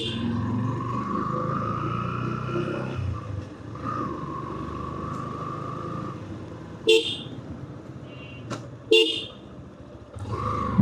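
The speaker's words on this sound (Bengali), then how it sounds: "হর্ন দিয়ে দিতে অবস্থা কাহিল।" On a winding road, a vehicle horn gives two short, sharp honks a couple of seconds apart, loud above the droning engine and road rumble.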